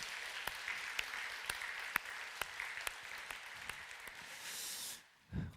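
Church congregation gives a round of applause, a moderately loud wash of clapping with a few sharper claps standing out, fading out abruptly near the end, followed by a brief low thump.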